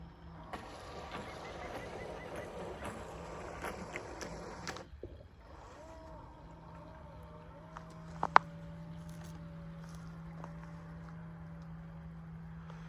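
A small remote-control bait boat whines over water, its high-pitched motor buzzing steadily at first, then fading to a quieter hum with a few sharp clicks.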